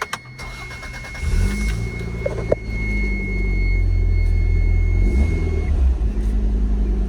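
A Toyota MR2 Turbo's engine cranks and catches, then settles into a steady, rumbling idle with a faint whine, heard close and alone.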